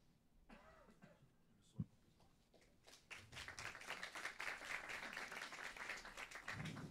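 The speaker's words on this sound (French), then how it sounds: "effectivement, on applaudit Emery Jacquia, même s'il n'est pas là." Applause from an audience at an organisational talk on stakeholder engagement swells from scattered claps into steady, dense clapping that continues to the end, after a single sharp knock and a cough early on.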